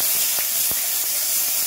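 Spice paste hitting a pan of fried capsicum and vegetables for restaurant-style chilli chicken, giving a loud, steady, close sizzling hiss that carries through the whole short moment.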